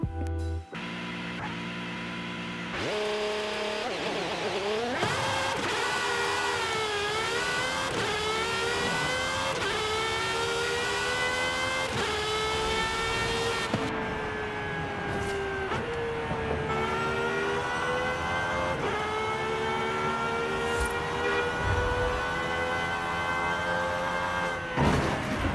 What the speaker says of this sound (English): this thing sounds like a straight F1 car